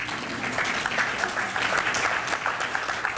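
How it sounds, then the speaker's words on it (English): Applause from an audience at a talk on micro loans for small businesses, a steady patter of many hands clapping for a few seconds at moderate loudness. "You can clap for that"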